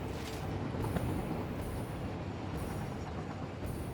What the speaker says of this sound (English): this train should start.